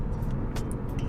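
An Audi A6 Competition with a 326 hp engine accelerating hard in fifth of eight gears on a small road, a brief steady low engine and road rumble heard from inside the car.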